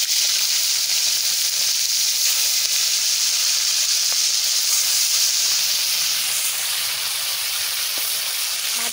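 Three hilsa fish heads fry in hot oil, giving a steady, loud hiss and sizzle that runs unbroken for the whole stretch with no talking.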